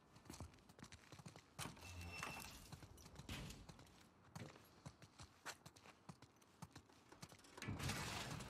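Horse hooves in the video game The Last of Us Part II clip-clop in an uneven walking rhythm, fairly close, with scattered clatter and rustle around them and no talk.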